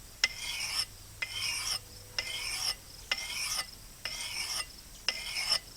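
An axe edge is sharpened with a file in six separate strokes, each a bright scraping rasp lasting about half a second, with short pauses between and no voices.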